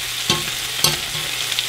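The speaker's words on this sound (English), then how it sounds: "I'm going to add some more bear fat. I'm going to cook it a little bit more." Bear meat and cranberries fry in bear fat, a steady sizzle with two sharper stirring scrapes of a utensil in the pan, close up and with no talking.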